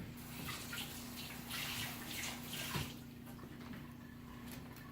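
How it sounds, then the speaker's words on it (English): Tap water runs steadily over a kitchen knife being rinsed during pasta preparation, a continuous close splashing wash lasting throughout with slight surges, no talking. "Just rinse my knife off."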